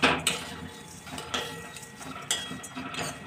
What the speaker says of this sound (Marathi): आपल्याला हे भाजून घ्यायचे शेवड्या कढईमध्ये